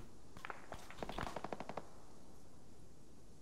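A quick burst of machine gun fire in the military shooter Antistasi on Virolahti, a rapid string of sharp cracks lasting about a second against a faint ambient background.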